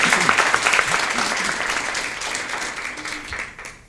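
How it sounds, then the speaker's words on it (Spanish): A church congregation breaks into loud, dense applause in praise to Jesus during a worship service, the clapping steady and full before tapering off toward the end. "¿Cuánto le da un aplauso de alabanza a Jesús?"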